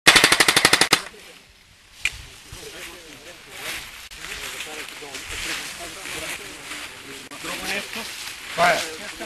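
An airsoft gun fires a rapid automatic burst of sharp, evenly spaced cracks at the start during an outdoor team game, loud and close, followed by rustling and people talking.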